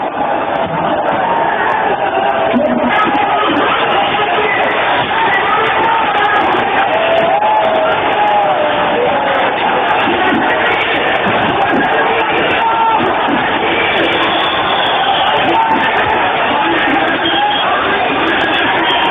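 A huge, angry crowd at the Babri Masjid demolition roars with frenzied shouting and yelling, a dense, loud, continuous wall of voices that never breaks, heard on narrow-band, archival-quality audio.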